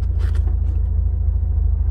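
A brief grinding scrape from the transmission of a 1992 Alfa Romeo Spider Veloce as it is shifted into first, heard over the steady low rumble of the idling engine.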